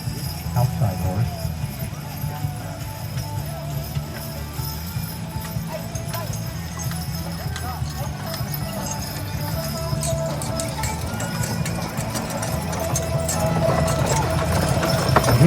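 Hooves of draft horses clip-clop steadily through a three- and four-abreast driving class at a draft horse show, a dense ongoing patter with an occasional whinny and voices talking over it, growing slightly louder toward the end.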